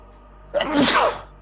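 A single loud, close sneeze bursts out sharply and fades within a second over quiet background.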